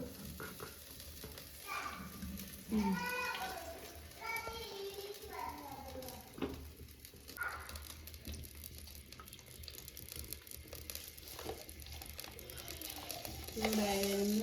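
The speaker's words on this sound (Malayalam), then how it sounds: "എണ്ണ തിളച്ച് വരുന്നുണ്ട് കേട്ടോ" Oil heats and bubbles in a hot clay pot for a toddy-shop-style mackerel curry, a close, crackling sizzle with occasional stirring, while a person talks over it at intervals.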